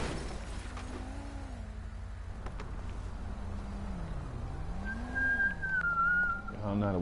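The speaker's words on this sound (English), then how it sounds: "I don't know how to whistle." A person whistles a wavering, sliding tune, low at first and then a higher thin line, close and fairly clear over a steady background hum.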